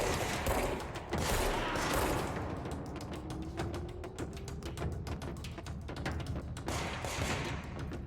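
Rapid bursts of video-game gunfire from the game Control, dense and continuous with fast repeated shots and thuds, mixed with game effects at moderate level, no voices.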